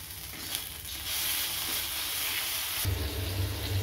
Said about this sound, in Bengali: এখানে আমি কালো জিরে আর শুকনো লঙ্কা ফোড়ন দিয়েছি